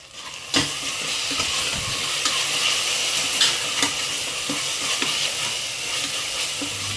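Tomatoes, paneer and coriander leaves sauté for paneer biryani in a pan, a continuous loud sizzle and hiss with occasional sharp spoon taps and stirring scrapes, heard up close with no talking.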